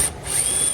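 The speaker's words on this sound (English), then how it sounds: "we're gonna go ahead and get these Torx out of here. They're T15" T15 Torx bolts are backed out of a car's plastic fender liner with a ratcheting tool, a steady close rubbing, ratchet-like mechanical whir that holds briefly and stops, with no talking.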